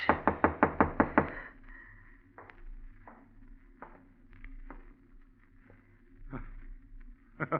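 A quick series of sharp, loud knocks on a door, followed by quieter scattered taps and soft thumps at a distance.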